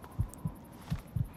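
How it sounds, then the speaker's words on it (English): Low-health heartbeat effect in the video game Fallout 3: soft, muffled double thumps pulse steadily twice over a quiet background hum, with no talking. "Oh, my health's getting low. Start to hear my heartbeat."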